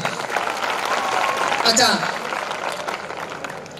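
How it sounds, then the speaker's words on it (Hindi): Audience clapping at a gathering honouring top-ranking girl students, a dense steady applause with talk over it. "जोरदार तालियां।"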